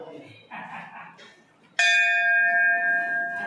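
A temple bell struck once rings out clear and bright, its metallic tone sustaining and slowly fading, after a brief murmur of voices in the background.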